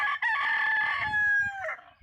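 A rooster crows once, a long wavering call that trails off, loud and close with no talk.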